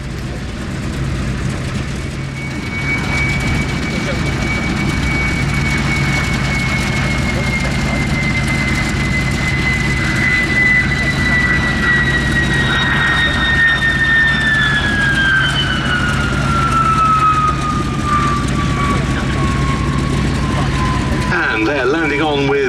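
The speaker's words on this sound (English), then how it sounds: "This is actually an ex-Swiss Air Force Vampire FB6 single-seater." An ex-Swiss Air Force de Havilland Vampire FB6 single-seat jet at an airshow gives a steady high whine that slowly falls in pitch as it passes, over constant background rumble and an announcer's voice.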